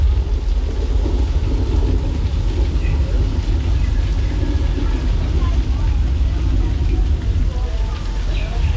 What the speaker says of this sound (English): Does anybody happen to hear a low rumbling sound off in the distance?